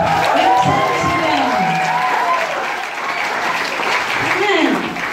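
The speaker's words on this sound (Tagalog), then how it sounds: "pumalakpak ng may buhay" A church congregation at an anniversary celebration claps steadily for several seconds, a dense wash of applause with a few voices and a whoop rising over it, fairly loud and close throughout.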